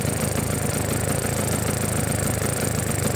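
A 1978 Vespa P200E scooter engine idles with its air filter off, giving a steady, even, close-up putter that holds constant throughout with no speech.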